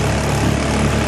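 Antique 1941 Champion outboard engine running at a steady, loud, buzzing drone, close up and continuous with no pauses.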